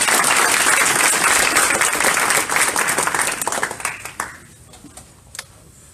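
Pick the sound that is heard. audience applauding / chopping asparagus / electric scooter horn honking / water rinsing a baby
audience applauding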